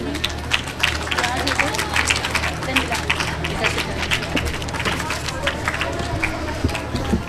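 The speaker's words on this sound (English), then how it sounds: "Do loud clap for Hassan Raza Abid." Crowd applause for a class 6 student taking third place in a school English speech competition, dense steady clapping sustained throughout with a light murmur of voices underneath.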